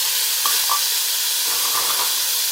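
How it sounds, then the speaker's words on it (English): Frozen mixed vegetables sauté for chicken fried rice, giving off a loud, continuous hiss of oil and steam with faint occasional stirring taps underneath. "We're going to saute these up. Just give them a little color."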